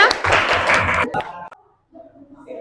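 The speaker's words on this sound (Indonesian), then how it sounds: "kasih tepuk tangan tuh kawannya" Students in a classroom applaud a classmate: a brief burst of clapping for about a second, then fading to near silence before faint talk resumes.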